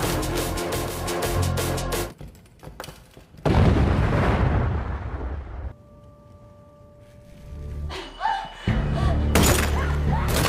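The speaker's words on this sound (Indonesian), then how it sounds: "setelah bom meledak" A bomb blast in an action film about a mercenary commander: a heavy boom with a crashing, debris-filled burst, set among dramatic score and effects, with a low ringing tone in the quieter stretch afterward.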